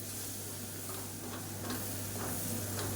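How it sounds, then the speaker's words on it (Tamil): Chili powder, kuzhambu powder and turmeric frying in hot oil: a steady, even sizzle and hiss, close and continuous, with faint stirring ticks and no talking. "சேர்த்துட்டு நல்லா எண்ணெயில் பரட்டி விட்டுக்கலாம்"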